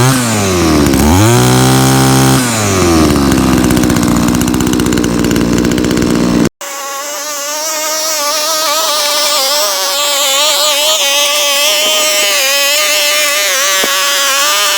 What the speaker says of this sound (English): This is a really nice weed eater. It's really quiet for a 2-cycle.